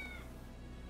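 A calico cat in the video game Rise of the Ronin lets out a short, faint meow that fades quickly over low in-game background hum.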